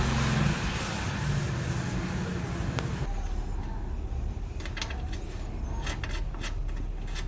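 A cloth rubbing and wiping dirt off a part of a Diesel Bullet motorcycle during a mudguard stay repair, close and steady, with a scraping start and softer intermittent strokes afterward.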